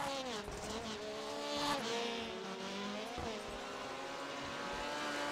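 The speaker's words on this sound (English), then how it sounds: "there goes Dacuna sliding by with four laps to go now" A rallycross car in the iRacing sim slides through a corner at Lucas Oil Raceway, engine whining with rising and falling pitch alongside tire noise, loud and steady throughout with no talk.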